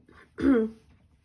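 A single short, throaty cough or throat-clear, close and fairly loud, lasting about a third of a second in otherwise quiet surroundings.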